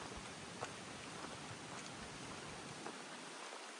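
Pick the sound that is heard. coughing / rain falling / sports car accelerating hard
rain falling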